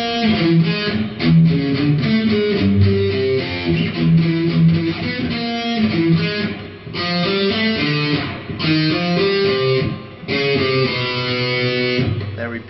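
Guitar plays the first and second phrases of a riff together, a dense, loud run of fast notes over a steady low backing, with brief gaps between phrases and no talking.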